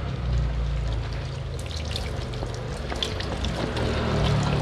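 Tap water runs from a faucet over a car cabin filter from a Hyundai Accent CRDI, a steady close splashing and trickling with a low rumble underneath and no talking.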